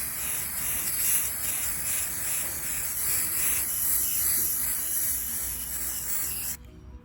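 Rust-Oleum 2x cover white semi-gloss spray paint hisses from an aerosol can in one long, steady, close burst, cut off abruptly near the end.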